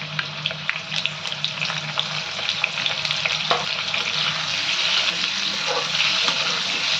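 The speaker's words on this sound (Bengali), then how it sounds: "তেলটা গরম হয়ে গেছে, আমি এবারে আলুগুলোকে একটু ভেজে নেবো।" New potatoes dusted with turmeric fry in hot oil with a continuous crackling sizzle, dotted with tiny pops and occasional stirring clicks. The sound stays close and even throughout, with no voices.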